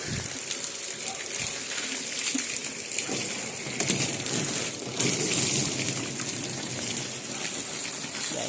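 Water gushes and splashes steadily as it is poured out for animals, a continuous soft rushing at moderate distance with little else audible.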